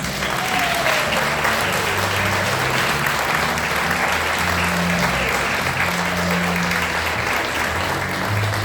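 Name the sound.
audience applause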